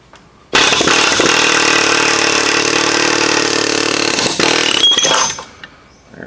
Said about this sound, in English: we're just gonna go ahead with the air hammer